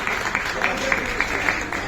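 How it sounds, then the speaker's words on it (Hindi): An audience at a Hindi poetry recital claps together in a dense, continuous round of applause, with a few louder individual claps standing out near the front. "चलिए एक बार ताली बजा दी।"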